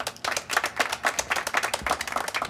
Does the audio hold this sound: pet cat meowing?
no